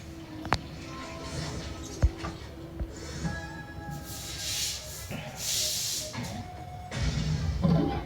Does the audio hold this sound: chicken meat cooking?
yes